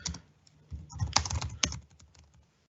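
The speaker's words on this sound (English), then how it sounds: "And I might start typing a name." A name is typed on a computer keyboard in short, quiet bursts of key clicks, with a couple of sharper keystrokes standing out, close by and with no talk over it.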